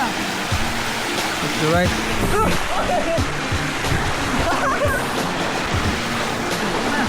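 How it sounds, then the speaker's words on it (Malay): Waterfall on Gunung Jerai, a broad steady rush of falling water that stays loud throughout, with people talking and calling over it. "Dekat sini ada air terjun."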